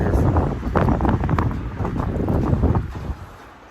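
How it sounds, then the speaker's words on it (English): Gusty wind buffets the microphone outdoors at an old chicken and egg farm, a loud continuous low rumble with surging gusts that eases off near the end. No one speaks. "Sorry about the wind."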